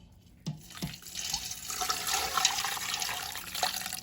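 About a quart of liquid pours into a pot roast, a close, steady gurgling splash that builds after a couple of clunks and continues for several seconds.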